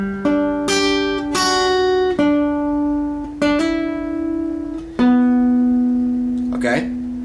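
A guitar phrase from a song, played as a run of about seven separately picked notes that ring out cleanly with sustained tones. It is close and alone, and a faint noise brushes past near the end.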